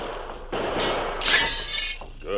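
A window pane breaks with a sharp crash followed by a spray of tinkling shards, close and loud, fading over about a second.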